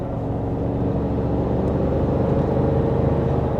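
A 2024 Toyota Tacoma pulling away under acceleration, a steady low engine drone and road rumble heard from inside the cabin, constant and fairly loud with no talking.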